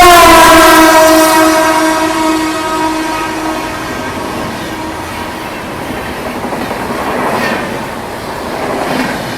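The 12393 Sampoorna Kranti Express runs through Hathras Junction, opening with a loud, sustained horn blast that fades into the steady rumble and clatter of passing rail cars.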